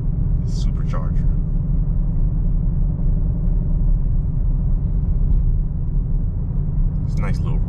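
A stock 2022 Shelby GT500 with a supercharged engine drives along a road, its deep engine rumble steady and loud from start to end, with brief higher sounds near the beginning and end.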